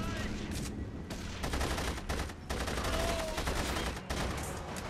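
Rapid, sustained bursts of gunfire from a World War II-era shooter game, The Saboteur, dense and loud across the whole stretch with only brief gaps between volleys.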